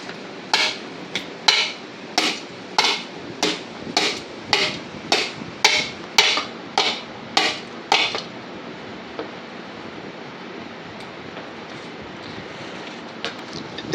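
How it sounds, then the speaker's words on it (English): A hammer strikes a pulley on a lawn mower go-kart, about fourteen sharp metallic blows in a steady rhythm over roughly eight seconds, loud and close, then stopping, leaving faint background noise. "Didn't realize the hammer was going to be so efficient."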